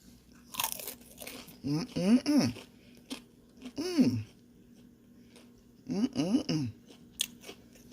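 Crunchy Nigerian puff puff, fried dough balls crisp outside and fluffy inside, bitten and chewed close up in three short crunching bursts separated by quiet pauses.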